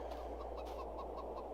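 Chickens in a farming video game cluck softly and repeatedly, faint rhythmic calls over a steady low background hum.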